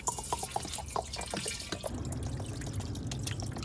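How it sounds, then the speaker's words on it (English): Vinegar is poured into a container for soaking and cleaning the exhaust of a KX65 two-stroke dirt bike, a dripping, splashing trickle of liquid that settles into a steady pour, close and fairly quiet with no talk. "So I'm gonna pour in the vinegar,"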